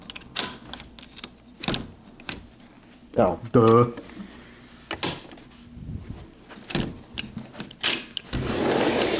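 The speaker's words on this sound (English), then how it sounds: "If I can even open this door." Hotel balcony door at a Courtyard by Marriott in Andover being forced open, with rattling, clunks and a scraping slide as it gives, while a man mutters briefly and outdoor air noise rises at the end.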